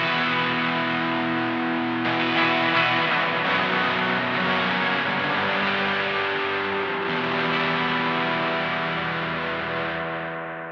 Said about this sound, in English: So you can hear that reverb-like sound coming through there.